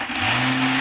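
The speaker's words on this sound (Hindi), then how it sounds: "और अब हमने मशीन चला दी है, ठीक है।" A blender motor runs steadily while blending homemade mayonnaise from garlic cloves and black pepper, a loud continuous whirring hum close by with no voices.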